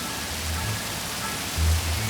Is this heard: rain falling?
yes